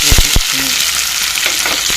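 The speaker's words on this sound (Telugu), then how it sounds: "ఆనియన్స్తో పాటు కర్రీ లీవ్స్ కూడా వేసుకున్నాము" Onions and curry leaves frying in hot tempering oil for a drumstick and egg curry, a loud, steady sizzle with a few sharp stirring knocks near the start, close and without any talk.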